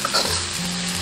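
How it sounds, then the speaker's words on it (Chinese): Scallion, ginger, garlic and diced red pepper stir-fry in a little oil in a wok, a brief loud close sizzle with a quick stirring scrape at the start. "锅留少许底油，下入葱姜蒜、红椒粒炒香"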